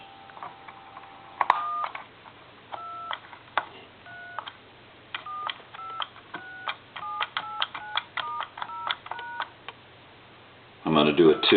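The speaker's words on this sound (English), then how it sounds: "And then I'm going to go ahead and dial the numbers." A series of short telephone keypad tones, beeping in quick irregular bursts, with a faint steady hum underneath and a louder noisy burst at the very end.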